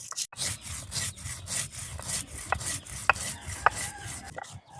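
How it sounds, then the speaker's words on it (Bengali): Coriander and cumin being ground by hand on a grinding stone, rhythmic rubbing and scraping strokes repeating steadily at close range, with a few sharper grating accents. "এবার মশলা পাতি বেটে নিছে, মশলায় নিয়েছে ধইনে আর জিরে"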